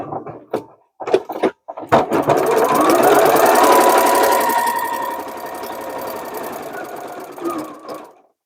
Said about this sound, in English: what I'm going to do now is top stitch across that folded edge